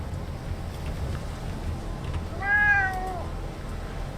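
A cat meows once in the video game Fallout London, a single clear drawn-out cry rising and falling over a low steady background hum.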